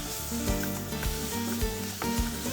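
A spiced mixture of tamarind, sugar and chilli flakes sizzles in a pan while a spoon scrapes through it in regular strokes, close and steady with no talk.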